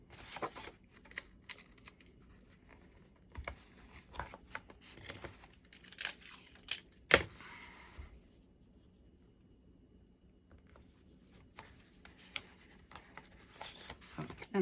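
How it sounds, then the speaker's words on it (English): Double-sided tape being pulled, torn and pressed onto paper for a vellum craft project: quiet scattered crinkles, rubs and sharp tearing sounds, close up, with short silent gaps between them. "we're gonna use our double-sided tape to put this down"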